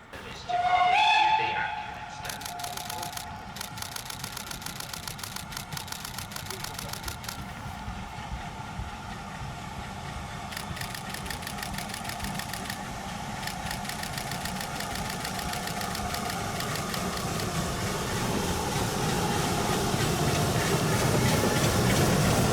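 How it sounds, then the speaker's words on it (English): Steam locomotive 2968 draws a Severn Valley Railway train into Highley station during a winter gala, a steady rumble of engine and rolling stock swelling louder and closer over twenty seconds, with no voices. "The Kidderminster train arrives on time with engine 2968 leading"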